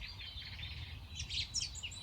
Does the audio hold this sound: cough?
no